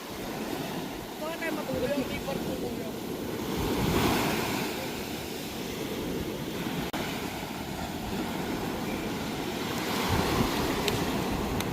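Steady roar of ocean surf with waves washing in and swelling, mixed with wind buffeting the microphone; no clear talk.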